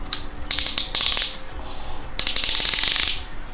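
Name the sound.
ratchet wrench cranking a 4AG engine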